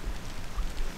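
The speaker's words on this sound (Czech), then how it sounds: "Nevím, jestli jsme to říkali, že prší jako prase." Heavy rain pours down outdoors at a motorcycle trials riding spot, a steady, dense hiss with low rumble filling the brief moment, no voices.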